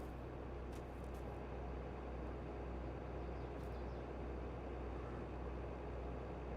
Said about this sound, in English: Hear the combine.